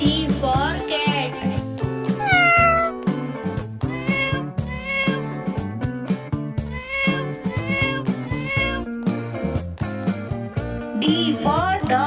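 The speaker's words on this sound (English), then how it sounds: "C for cat." Repeated cartoonish cat meows, rising and falling mews, ring out over a bouncy children's phonics song with sung vocals and instruments throughout.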